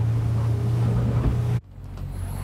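A Feniks 600 motorboat with a Mercury 150 Pro XS outboard runs at top speed, a loud steady engine drone over water and wind noise that cuts off abruptly, leaving a quieter rushing background.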